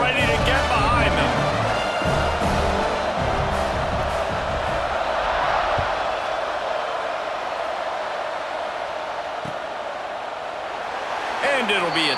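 A stadium crowd roars continuously before kickoff in the video game College Football 26, a broad sustained wash of cheering with a play-by-play commentator talking over it.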